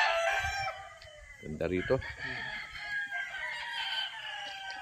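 Roosters on a gamecock farm crow and cluck, several birds near and far, with a brief spoken exchange partway through and a steady background of more crowing.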